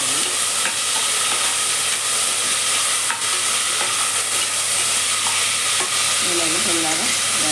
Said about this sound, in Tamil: சாம்பார் வெங்காயம், பச்சை மிளகாயும் போட்டு எண்ணெய் நல்லா வதக்கி விட்டுணும்.